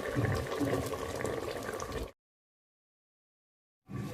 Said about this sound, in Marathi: त्यामध्ये आपण गरम पाणी घालतोय